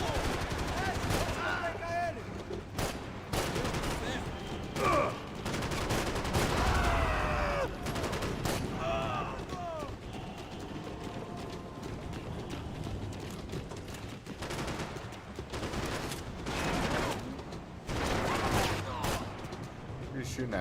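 Gunfire in a Rebirth Island domination match, Call of Duty Warzone-style shooter, with frequent sharp shots and bursts scattered throughout, moderately loud, under excited voices talking.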